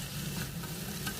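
Meat sizzles steadily as it is stir-fried in a hot pan, a brief close crackling hiss with soft scraping.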